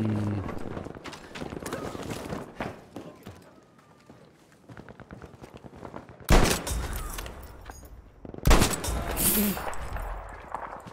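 Sniper rifle shots in a Krag video game, two sharp loud cracks a couple of seconds apart, each followed by a brief ringing tail, over ongoing game sound and talking.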